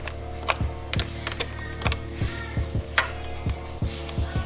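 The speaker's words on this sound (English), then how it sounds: "this is a 12, but I'm gonna get it's a 13 box wrench" A 13 box wrench works a battery terminal on a 1999-2004 Mustang GT, giving sharp metallic clicks and ratcheting ticks in an uneven rhythm, close and moderately quiet over a steady low hum.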